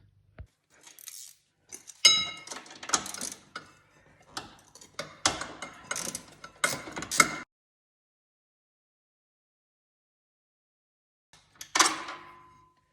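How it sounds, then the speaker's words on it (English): A 13mm swivel-head ratcheting box-end wrench clicks in quick bursts while backing a nut off the chain case of a 2021 Ski-Doo 850 Turbo snowmobile; close, sharp ratchet ticks for several seconds, a pause, then one more short burst. "one of these swivel head ratcheting box end wrenches"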